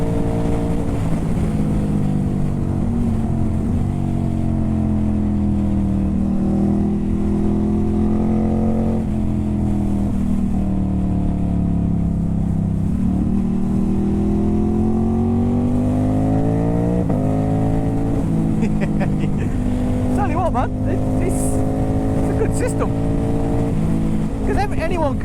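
A Ducati Hypermotard 950 SP motorcycle with a tuned exhaust and ECU revs and accelerates in a continuous loud drone, its pitch climbing and falling several times, while a person talks over it.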